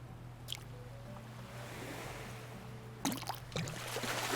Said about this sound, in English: I love just being silent as well and just listening to the waves